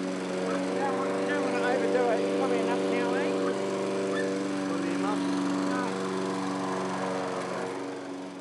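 A lawn mower engine runs steadily at close range throughout, a constant droning hum with a voice talking over it.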